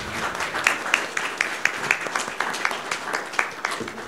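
A conference audience applauds a medical cannabis panel, a steady wash of many hands clapping at moderate distance with fairly even, continuous rhythm.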